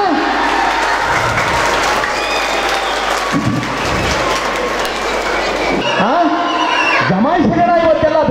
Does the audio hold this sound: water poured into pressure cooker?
no